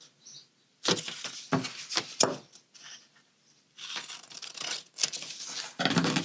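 A paper sewing pattern is cut out up close, several crisp bursts of cutting and rustling paper separated by short pauses, with no talking.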